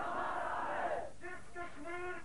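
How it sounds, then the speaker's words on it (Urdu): A crowd at a 1993 JKLF political rally in Kotli, Kashmir roars back a loud slogan response in unison. Several shorter chanted replies follow, each voiced on a sustained pitch with clear pauses between them. "میں چند نعرے لگاؤں گا ان کا زور سے جواب دیجیے گا"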